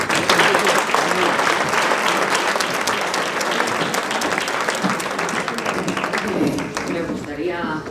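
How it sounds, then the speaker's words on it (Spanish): A hall audience at a celebration event in Navarra bursts into loud, sustained applause, dense clapping that holds steady for several seconds before tapering slightly at the end. "Un fuerte aplauso."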